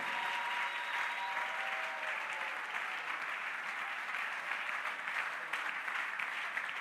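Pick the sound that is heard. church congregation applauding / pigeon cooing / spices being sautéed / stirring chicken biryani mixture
church congregation applauding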